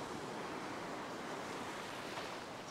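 Ocean waves on a fishing beach, a loud, continuous roar of breaking surf close by with wind buffeting the microphone, no voices.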